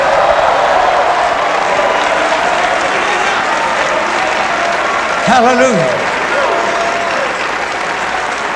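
A church congregation claps loudly and steadily, with a voice calling out partway through the dense applause.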